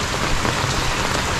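Steady rain pours down during the wet season in Talisay, Batangas, a dense, close hiss of drops hitting surfaces that stays loud and even throughout, with no voices.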